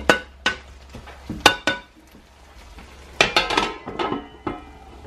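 A utensil stirring partly frozen food in a pot, sharp clinks and scrapes of metal on cookware in irregular bursts, loud and close, with quieter gaps between them.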